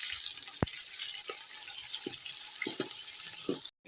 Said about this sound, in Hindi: अब हम प्याज भून लेंगे।